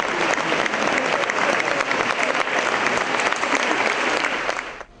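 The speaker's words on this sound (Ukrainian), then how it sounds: "Публіка зустрічає маестро бурхливими оплесками" A concert audience claps steadily and loudly for a jazz pianist at an anniversary show in an organ hall, with a dense, sustained ovation that holds evenly before cutting off abruptly.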